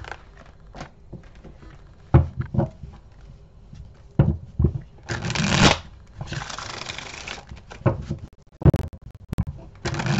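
Tarot cards being shuffled and handled up close, with irregular riffling bursts, soft scrapes and taps between them, and faint talk at times.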